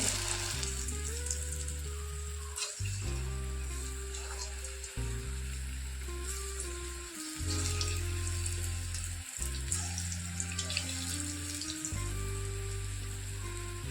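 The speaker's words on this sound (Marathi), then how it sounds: "छोटे छोटे भजे आपण इथं तेलात सोडतोय" Small urad dal and onion bhajis fry in hot oil over a medium flame, a continuous close bubbling sizzle with brief breaks and a low steady hum beneath, and no talking.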